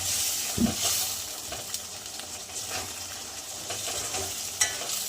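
Cubes of homemade paneer go into a capsicum gravy in a hot pan and are stirred, giving a soft sizzle and bubbling with a few scraping spoon strokes, heard up close.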